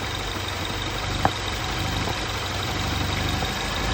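The engine of a Mini Cooper S Clubman idles with the bonnet open and the rocker cover off, a steady low hum broken by one sharp click partway through.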